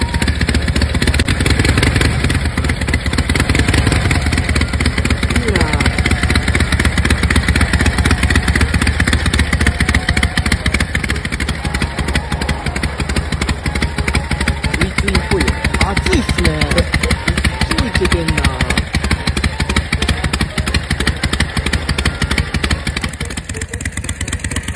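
A Rikuo Harley-Davidson motorcycle engine fitted with a Nikki carburetor runs steadily nearby, its rapid, even firing pulses and mechanical clatter continuing for the whole stretch with no talking.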